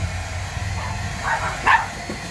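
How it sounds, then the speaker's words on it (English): Dogs barking indoors at a motorcycle passing outside a house on a main highway, a few muffled barks rising near the end over a steady low background hum. "My dogs are barking because there is a motorcycle outside"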